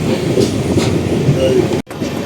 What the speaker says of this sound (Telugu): ప్లాట్ఫామ్ నెంబర్ 2 పైకి అయితే మన ట్రైన్ వచ్చి ఆగింది